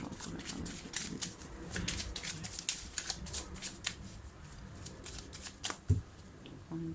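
Tarot cards are shuffled by hand in quick, papery riffles and soft flicks, close and fairly quiet, with irregular bursts of card noise and a faint room background.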